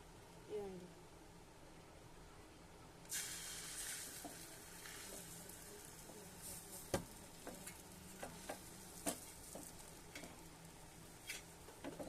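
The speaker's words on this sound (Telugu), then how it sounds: "మనం చేసుకున్న ఆమ్లెట్ ఉంది కదా గాయ్స్, అదైతే పోసుకుందాం" Omelette batter poured into an oiled pan starts a soft, steady sizzle, faint and close, with scattered small clicks and taps on top.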